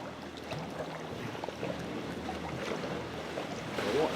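Sea water washing and splashing against the side of a paddled boat moving along a kelp-strewn coast, a steady close rush of broadband wash that swells slightly at the end.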